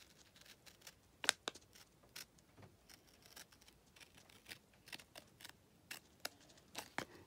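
Scissors cutting along one side of paper or packaging, a series of quiet irregular snips and crisp cuts, close and soft, with light rustling between them.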